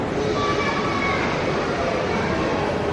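A steam train running on track at a rail museum during a Thomas the Tank Engine show, a loud continuous rumble and hiss throughout with some faint tonal whine, no talk heard.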